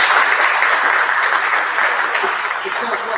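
Audience applause in a hall, a loud dense round of clapping that continues steadily for about three seconds and tapers slightly toward the end.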